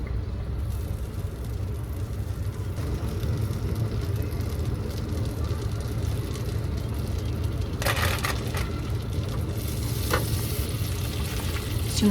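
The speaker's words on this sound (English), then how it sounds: "I put quite a bit of butter in there because I like to also put my bun in there and like brown my bun up." Butter sizzles steadily in a frying pan while a bun browns, a continuous close frying hiss with a few brief crackling bursts near the end, no talking.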